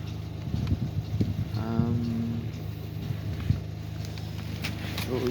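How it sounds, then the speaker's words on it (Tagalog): Faulty Ford C-Max Titanium engine idling steadily up close with a low droning hum, a brief whine near the middle and scattered clicks and knocks, with no speech. "So yan yung tunog ng kanyang engine."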